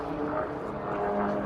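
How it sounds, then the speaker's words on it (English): A Winged Williams light propeller airplane with a 100-horsepower engine drones steadily in flight, a continuous hum with a faint tonal whine, moderately loud and unaccompanied by speech. "This airplane's capable of running about 310 to 312 miles an hour straight and level on 100 horsepower."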